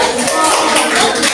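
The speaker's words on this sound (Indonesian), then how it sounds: "Silakan tepuk tangan." A class claps hands together after a group presentation, quick dense clapping close by with children's voices faintly underneath.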